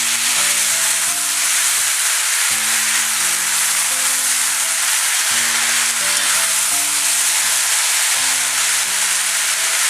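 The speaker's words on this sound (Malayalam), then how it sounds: "ഇനി ഇത് നന്നായിട്ടൊന്ന് ഇളക്കി കൊടുക്കാം." Drumstick stir fry (murigakka thoran) sizzles steadily in a pan while being stirred, a constant close hiss with faint tonal hum underneath.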